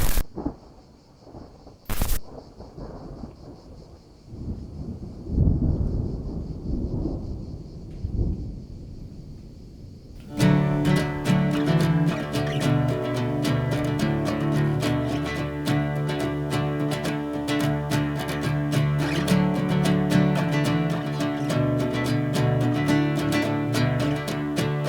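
Thunder rumbles and cracks during a storm while out hiking, with a sharp close strike early on and then a long, loud, continuous roar of thunder and heavy rain-like noise filling the rest.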